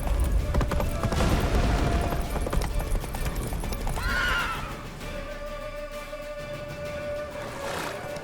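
A horse whinnies and gallops in The Witcher 3 video game, with loud hoofbeats and a shrill neigh over dense battle ambience and rumbling, then a second neigh rises near the end as the scene calms slightly.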